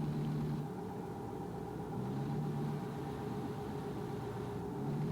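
Truck engine and transmission in American Truck Simulator, a steady low droning rumble that swells and eases slightly as the gearbox shifts back and forth between gears.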